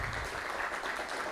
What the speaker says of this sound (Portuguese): Então, uma salva de palmas, por gentileza,